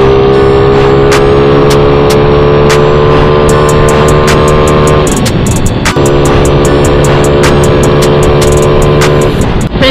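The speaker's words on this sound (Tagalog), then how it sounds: "kung maingay itong motor natin, no? Este yung tambutso." A loud, noisy motorcycle exhaust roars continuously while riding, a steady droning engine note close to the mic with a brief dip midway as the revs shift, then back up, no speech.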